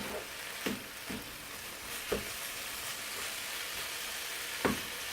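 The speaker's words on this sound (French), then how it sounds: "Je mets un peu de sel pour les poivrons et carottes. Et je mélange jusqu'à une bonne cuisson." Salted peppers and carrots fry in a pan for a stuffed potato pie filling, a soft steady sizzle broken by several spaced clacks of stirring, close but fairly quiet.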